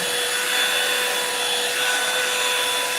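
A hair dryer blows with a steady, loud, close-up whooshing hum and a high-pitched whine throughout.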